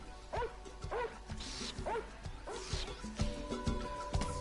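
Dog barking in the platformer game LittleBigPlanet, a string of quick, sharp yips and woofs in an uneven rhythm, fairly close, with no talking.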